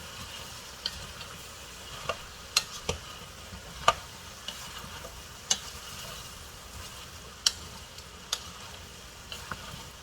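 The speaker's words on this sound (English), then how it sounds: "we're going to want to cook our potatoes for about 5 or 6 minutes to get them nice and tender" Potatoes cook in a pot for fish chowder, giving a faint, steady low sizzle and bubbling, broken by scattered sharp little ticks and taps at irregular intervals.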